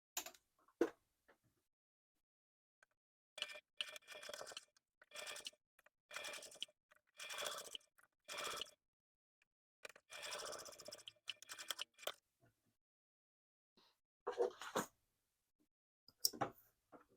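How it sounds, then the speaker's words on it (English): Sewing machine stitching a clear vinyl beachcomber pouch seam at a quarter-inch allowance, heard as repeated short bursts of rapid mechanical stitching separated by pauses, close and fairly quiet with no talking. "And then we'll stitch it 1/4 of an inch seam allowance."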